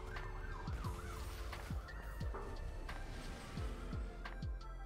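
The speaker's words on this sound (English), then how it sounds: "There's an ambulance driving on by." An ambulance siren wails as it drives past outside, heard faintly and steadily through the room over repeated soft ticking clicks.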